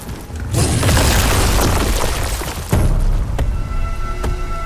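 A loud video game explosion bursts in with a deep boom and broad rumble, then a second blast hits near the midpoint, and the debris noise slowly settles into a sustained roar.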